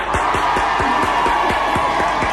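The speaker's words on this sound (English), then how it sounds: "I think we got a bigger cheer than him then" A live concert crowd at a small London venue, the Scala, cheering loudly and continuously at a secret gig, with steady rhythmic clapping running through the roar.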